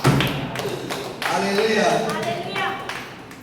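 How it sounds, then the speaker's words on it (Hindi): A congregation claps hands during a Hindi Christian sermon, a dense burst of applause mixed with a preacher's raised voice and crowd response. "ताली बजाओ ना।"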